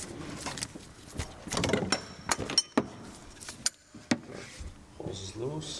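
A socket wrench works on a power steering hose fitting of a Mercedes E32, giving scattered close clicks and ratcheting clacks amid metallic handling, with someone talking over it.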